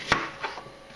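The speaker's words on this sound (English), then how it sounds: "Basically, I'll just chop them up like this." Kitchen knife chopping apples for homemade apple wine: one sharp, close cut stands out, followed by two fainter taps on the board, with no talking.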